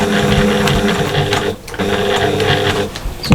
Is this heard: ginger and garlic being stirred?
no